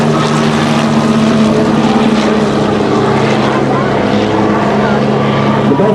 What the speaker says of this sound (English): He's flying a Bell 47